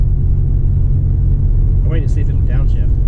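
A RAM 3500 pickup with a 6.7L Cummins diesel climbs a steep Arizona mountain grade, its engine a loud, steady low rumble that fills the cabin while people talk over it.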